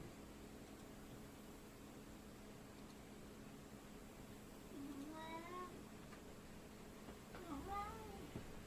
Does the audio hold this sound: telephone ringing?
no